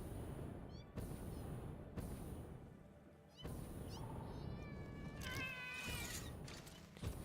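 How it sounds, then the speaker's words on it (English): Cat-like creatures in a video game, quiet wavering meows and yowls in a swamp area, faint under a steady game background hiss with occasional clicks. "I hear evil kitties."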